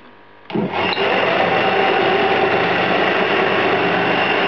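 A homemade thickness drum sander's motor starts on its first run, jumping from a quiet background to a loud, steady, high-pitched whirring drone that holds constant and close.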